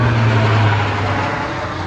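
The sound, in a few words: airplane flying overhead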